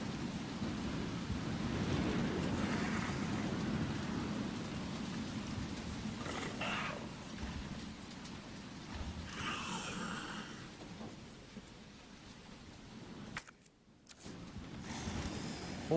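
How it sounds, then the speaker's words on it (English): Heavy rain pours steadily in the video game Resident Evil 2 Remake, a dense continuous hiss with low rumbles beneath, briefly cutting out near the end before resuming. "But it's already raining really hard."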